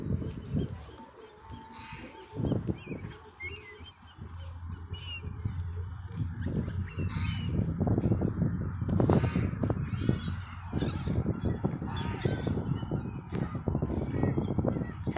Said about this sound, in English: Birds. Birds everywhere.